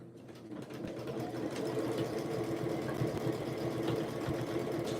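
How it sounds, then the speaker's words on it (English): A home sewing machine stitching, running steadily with a continuous mechanical hum and rapid needle rhythm, close and moderately loud after a brief quieter start, with no talking. "Sometimes my machine will do what it's supposed to do by back stitching a couple of times and then going forward on its own."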